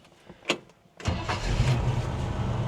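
A 1972 Chevrolet Cheyenne Super K10 4x4 pickup cranks briefly and fires, its engine catching at once and settling into a loud, steady rumble close by.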